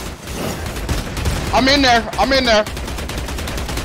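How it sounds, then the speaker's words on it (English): Pistol gunfire in the vampire battle royale Vampire: The Masquerade - Bloodhunt, a rapid string of cracks mixed into busy game noise, with a voice talking over the shots. "Cracking them up with these pistols"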